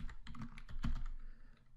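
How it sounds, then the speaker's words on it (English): Steady clatter of keys typed on a computer keyboard, close and fairly quiet, with rapid irregular strokes and no talking. "I'm going to hit enter on my keyboard"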